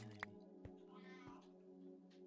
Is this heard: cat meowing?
yes